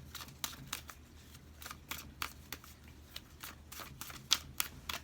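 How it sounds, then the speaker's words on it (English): Tarot cards being shuffled by hand, a quiet series of brisk riffling bursts in an irregular rhythm, close and soft, with no talking. "we're going to shuffle for you 3 more times"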